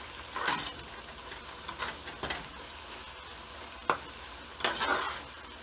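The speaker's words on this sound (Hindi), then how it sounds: "हम चलाते रहेंगे ताकि इसमें एक जैसा कलर आए प्याज पे।" Onions frying in a pan while being stirred, steady close sizzling with several scraping strokes of a spoon through the pan and one sharp knock, no voices.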